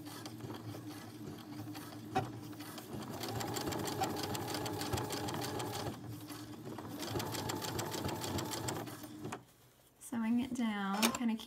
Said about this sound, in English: Sewing it down, kind of keeping it, pulling it apart as I go so none of that pocket gets tucked in there.